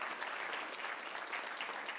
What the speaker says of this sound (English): Would you give her a big round of applause?